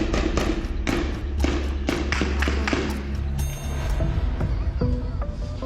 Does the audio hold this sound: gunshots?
yes